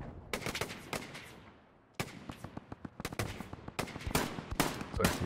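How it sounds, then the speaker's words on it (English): Gunfire in Hell Let Loose, a World War II shooter: sharp single shots and short bursts crack out at irregular intervals from some distance, with rattling volleys clustered toward the end and no talking. "Looks like he's shooting over there."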